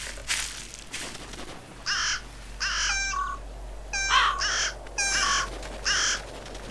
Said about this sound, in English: See? Carrion crow.